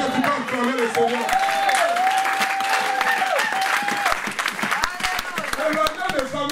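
A church congregation applauds and cheers steadily throughout, dense clapping mixed with crowd voices and a sustained sung or shouted tone over it.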